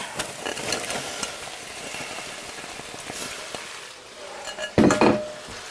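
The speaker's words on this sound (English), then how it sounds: "now the bacon is getting crisped up, so we're going to add our onions and garlic" Bacon, onions and garlic frying in a pot for clam chowder, with a steady sizzle under repeated clinks and scrapes of a utensil stirring against the pot, and a louder clatter near the end.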